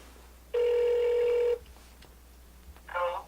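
A telephone rings once during a call placed to a rapper, a single steady electronic ring lasting about a second, fairly clear against a quiet background, followed by a faint voice.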